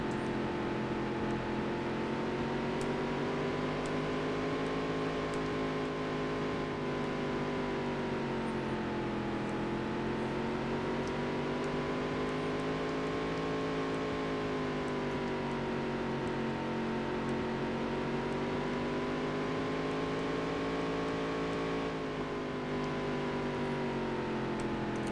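Race cars from the racing game Dirt to Daytona roar steadily throughout, with a loud, sustained engine drone that rises and falls slightly in pitch as the car holds speed and eases through corners.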